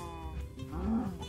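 A cow moos once in the Minecraft video game, a short, fairly quiet low call rising toward the end, heard alone without talk.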